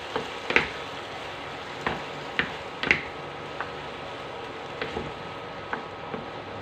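Egg tofu and Chinese celery stir-frying in a pan, with a low sizzle broken by scattered sharp ticks and clicks at irregular intervals, close and fairly quiet, with no talking.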